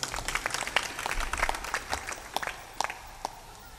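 A crowd at a spiritual discourse claps in quick scattered bursts, moderately distant, the applause thinning out toward the end.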